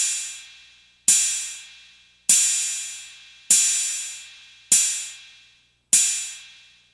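The Rai cymbal model on an Elektron Analog Rytm drum machine sounds six evenly spaced, loud, hissing metallic crashes, each decaying smoothly before the next strike, with nothing else heard.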